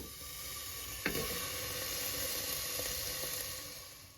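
Ghee sizzles in a cooking pan for broccoli soup, a steady close hiss with a brief sharp crackle near the start and a few small pops.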